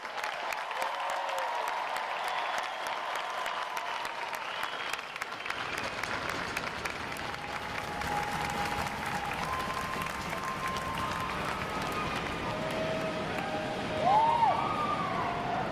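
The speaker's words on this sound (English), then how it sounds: "Let's give them and you a round of applause" A large crowd at a U.S. Navy boot camp graduation applauds its newest sailors, a broad sustained wash of clapping with scattered cheers, steady and dense across the whole stretch and swelling slightly near the end.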